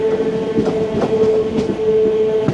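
A MEMU electric multiple-unit train rolls into Feroke station, its steady motor whine holding under rhythmic wheel clatter and occasional sharp clicks over rail joints, close and continuous.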